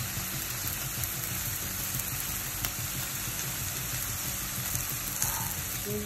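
Broccoli and asparagus frying in coconut oil and butter on a stovetop, a continuous, even sizzle with soft bubbling close by, with no talking over it.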